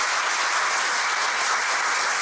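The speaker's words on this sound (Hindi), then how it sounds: "मैं चाहूँगा कि आप सब जोरदार तालियां बजाकर" Steady, dense audience applause at a live podcast talk session with filmmaker Tigmanshu Dhulia, even and unbroken throughout.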